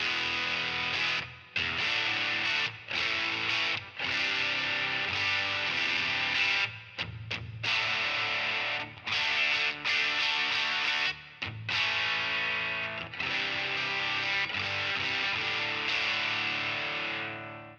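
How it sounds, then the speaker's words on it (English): An electric guitar played through a distortion pedal on its Distortion Plus style setting, with all knobs at noon, gives a thick, saturated tone of steady strummed chords broken by short pauses, loud and alone without talking. "this is supposed to be a distortion plus"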